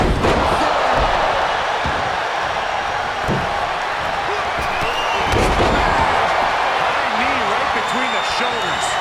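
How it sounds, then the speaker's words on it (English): Wrestling arena crowd at the Royal Rumble roaring and chanting in unison around a pinfall, a loud, continuous mass of voices with occasional thuds and slams from the ring, and a commentator talking over it. "Listen to this crowd count the next one in."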